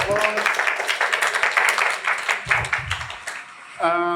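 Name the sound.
audience applause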